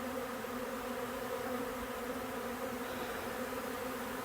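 A swarm of bees in a garage keeps up a dense, steady, layered buzzing drone, close and continuous with no pauses.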